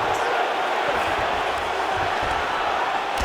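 Arena crowd cheering in the UFC 5 video game during a welterweight fight between Belal Muhammad and Georges St-Pierre, a steady roar of noise that holds loud and even from start to finish with no clear voices on top.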